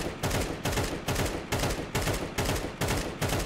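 Automatic gunfire sprays in the video game CS2: a rapid, evenly spaced string of loud shots, about two or three per second, running continuously with no talk over it.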